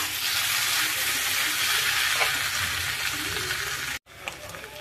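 Potatoes and singri beans frying in a pan over medium gas, a steady broadband sizzle that holds for about four seconds, cuts out abruptly, then resumes more softly.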